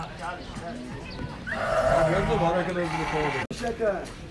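Sheep bleat repeatedly, several overlapping cries close by over a steady background hum.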